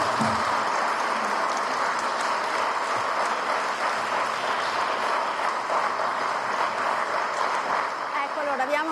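Sustained applause from a large audience after President Sergio Mattarella's speech at an official Italian ceremony, a dense, even clatter of clapping filling the whole stretch at steady loudness, with a murmur of voices underneath.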